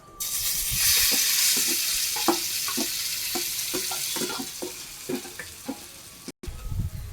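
Ground moong lentil paste goes into hot white oil with a pinch of cumin, a loud burst of close sizzling that settles into fainter frying with scattered spoon clinks and stirring taps.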